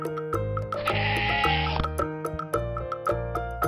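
A goat bleats in an animated children's story, giving one long, loud quavering bleat over a bouncy musical backing, with no talk.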